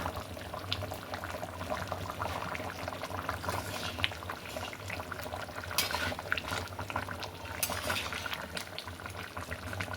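Thin chicken curry with garam masala powder simmering gently in a pot, a soft continuous bubbling with faint clinks throughout, no talk.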